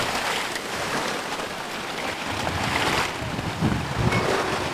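Ocean waves wash and surge steadily at a beach in Sri Lanka, a broad continuous roar with wind buffeting the microphone and a slightly louder swell near the end; no one speaks.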